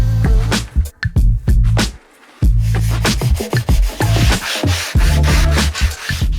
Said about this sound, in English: To smooth out the edge perfectly, I insert a rounding bit and carefully run it over each sawn edge once more.